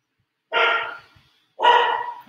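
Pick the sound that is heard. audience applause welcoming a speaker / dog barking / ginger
dog barking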